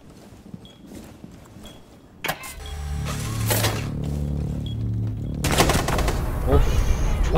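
Gunfire in the shooter game Rainbow Six Siege: sparse sharp shots, then a loud burst that opens into sustained rapid firing and clattering impacts, with a voice faintly present.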